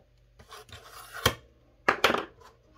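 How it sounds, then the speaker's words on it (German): A blade cuts a passepartout card from the inside: soft scraping strokes, then a few sharper close-up scratches and cuts, heard alone. "Von innen schneiden."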